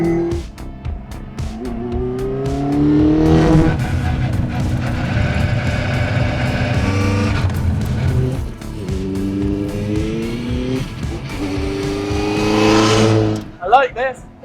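A classic Mini rally car with an A-series engine drives hard, loud and close from inside, revving up through the gears with rising engine pitch and gear changes, while people talk over it.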